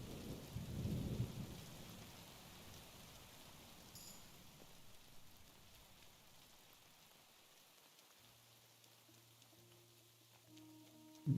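Rain and thunder in the game Kingdom Come Deliverance II: a low rumble of thunder swells early, then rain hisses steadily and quietly, with a short tonal game sound near the end.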